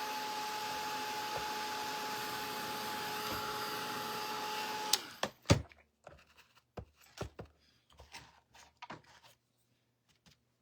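A drying tool blows on a stenciled snowman "LOVE" craft sign, giving a steady, loud whooshing roar with a faint hum for about five seconds before it cuts off, followed by a few scattered knocks and handling clatter.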